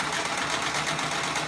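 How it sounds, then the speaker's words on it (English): A sewing machine runs continuously at a fast, even rattle, loud and close, with a steady mechanical whir and no voices over it. "That's my beloved sewing machine that I had kept from him for almost 9 years."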